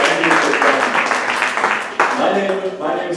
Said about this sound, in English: let's start with a big round of applause for everybody who made it here in the rain